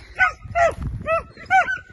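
Spanish greyhounds (galgos) tied up outdoors bark and whimper close by in four short, pitched yelps with rising and falling whines, and low noise sits beneath them.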